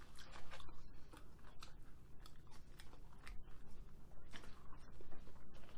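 Close, wet crunching and chewing of McDonald's spicy chicken nuggets, steady bites and mastication running continuously through the stretch with no talking.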